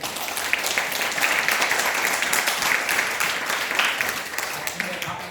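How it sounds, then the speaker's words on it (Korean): A gathering at a Buddhist Dharma lecture claps together, a loud, even wash of many hands sustained for several seconds with little variation. "다 함께 자기 자신을 위해서 기쁜 마음으로 박수 크게 자"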